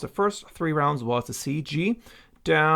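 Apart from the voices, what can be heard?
No everyday noise stands out behind the speech.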